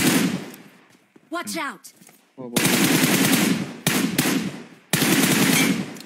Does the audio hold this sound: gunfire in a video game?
yes